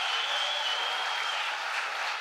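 Audience applause at a Compromís political presentation in Pego, a dense, even roar of many hands clapping together that holds steady and loud throughout, with no talk over it.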